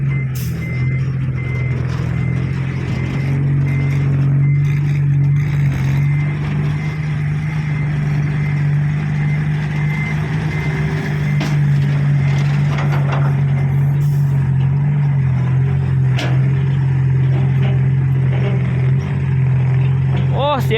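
A heavy vehicle engine rumbles loudly and steadily up close, with faint mechanical clatter and brief higher tones over the drone.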